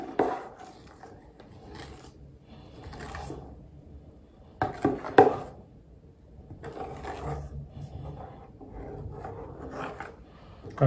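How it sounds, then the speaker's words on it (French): A ladle stirring crêpe batter in a bowl, with soft wet scraping and knocking strokes coming in uneven bursts, close by and moderately loud, with no talk. "Maintenant, je vais remuer avec la louche."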